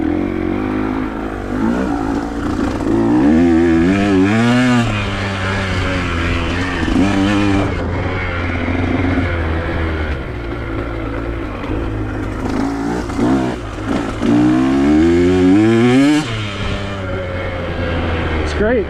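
Dirt bike on a trail lap, engine revving up and down in repeated surges close to the microphone, with rider voice and bumps intermittently underneath.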